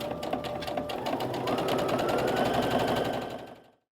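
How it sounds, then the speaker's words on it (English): A basic beginner sewing machine stitches a skirt in a fast, steady mechanical rhythm for a few seconds, close and fairly loud, then stops abruptly. "I'm working on a fairly basic beginner sewing machine here"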